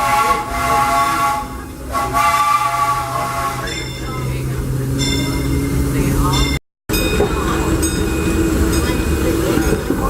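The Disneyland Railroad steam train running at night, with a loud continuous rumble and hiss of the moving train and brief whistle tones, under a narrator's voice.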